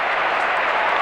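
A big football crowd at the MCG roars after a mark in the 1987 VFL Elimination Final between Melbourne and North Melbourne, a dense, steady wash of cheering that fills the whole brief moment.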